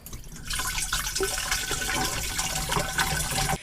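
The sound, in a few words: water being poured into a container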